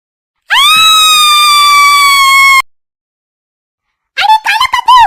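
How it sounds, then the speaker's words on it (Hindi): A girl lets out a loud, sustained high-pitched scream of about two seconds, followed after a pause by a shorter, broken burst of screaming, in a comedic household skit. "जोर से चिल्ला रही है वो"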